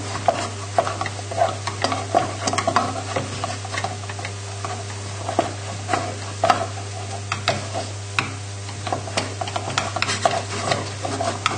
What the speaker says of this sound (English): And just stir it in, the melted butter.